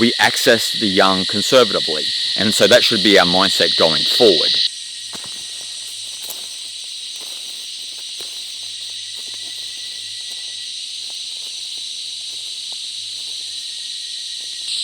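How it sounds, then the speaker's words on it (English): A steady, high, shrill insect buzz drones continuously, with someone talking over it at first before it carries on alone. "Sorry about the noise, everyone. These cicadas, they're just drowning out this audio."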